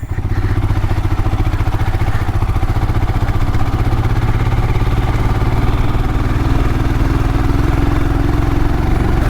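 A motorcycle engine chugging loud and close in a steady, low rhythmic throb as it climbs a mountain road toward Stongdey, with constant wind rumble and no pauses.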